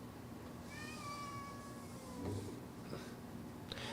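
A house cat lets out a drawn-out meow early on, followed by a couple of softer, shorter calls, heard fairly close over a low steady room hum.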